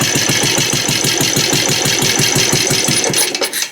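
An old PA engine, running without its oil scraper ring, catches and settles into a fast, steady chugging idle, close and loud, with even rhythmic firing throughout before it tapers off near the end.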